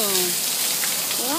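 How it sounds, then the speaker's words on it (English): Heavy rain pouring in a dense, steady hiss that fills the moment, loud and close, with a voice speaking over it at the start and end. "Look at that rain."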